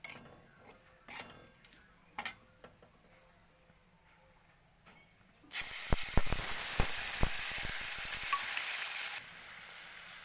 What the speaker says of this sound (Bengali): আমি প্রথমে মশলাটাকে ভালোভাবে কষিয়ে নেব